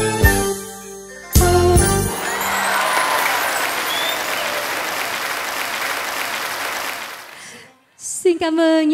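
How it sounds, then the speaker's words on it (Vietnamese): At a live Vietnamese concert, the audience breaks into sustained applause for several seconds after the music ends, a broad wash of clapping that fades near the end before music returns. "Cảm ơn những tràng vỗ tay của quý vị"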